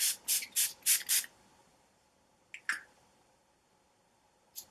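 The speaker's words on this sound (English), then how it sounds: "I'm going to use a little bit of setting spray and then we are done." Urban Decay All Nighter setting spray fires five quick, bright hissing bursts in a row from close by, followed by near silence and a few soft clicks.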